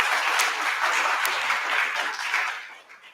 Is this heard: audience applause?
yes